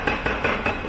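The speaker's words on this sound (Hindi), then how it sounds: "कंस्ट्रक्शन की तो आवाज़ आ रही है" Construction work nearby gives a series of four or five sharp hammer blows in a quick, even rhythm, loud against a dense noisy background.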